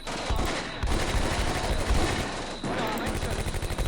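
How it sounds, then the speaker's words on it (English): Sustained, dense automatic gunfire from a Puma armored car in the WW2 video game Combat Mission, with steady repeated bursts and loud battle noise, broken by short pauses. "they've got a friggin' Puma that they're firing at us"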